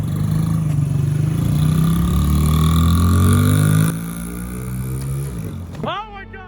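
A Jeep fitted with a C6 Corvette engine and modified exhaust revs up loudly, rising then easing off with a throaty drone, then cutting out to a short shout over the fading engine.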